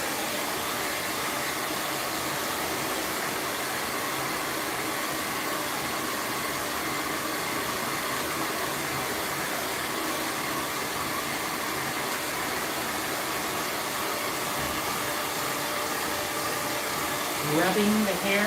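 A blow dryer with a pick attachment drying hair in a salon runs as a continuous, steady whooshing roar, close and fairly loud, with a voice faintly under it and a slight shift near the end.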